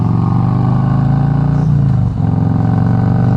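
2018 Harley-Davidson Road Glide Special with a Stage 2 V-twin and Tab Performance mufflers, riding along a warm road, its deep engine note droning loud and close, with a brief throttle change partway through.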